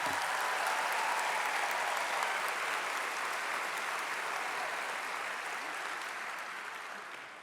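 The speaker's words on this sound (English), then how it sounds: "Please give them a round of applause." Steady, dense applause from an audience at a school district convocation, sustained for several seconds and slowly tapering, with no talking over it.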